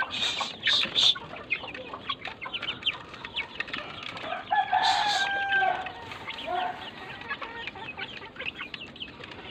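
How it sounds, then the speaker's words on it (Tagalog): A rooster crows loudly in the middle, set among surrounding chicken clucks and squawks against a constant outdoor hiss. "Yan yung tandang"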